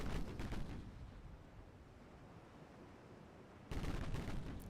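A torpedo detonates in Ultimate Admiral Dreadnoughts: a deep booming burst opens, a low rumbling tail follows, then a second heavy blast hits near the end, fairly distant and muffled, with no talk.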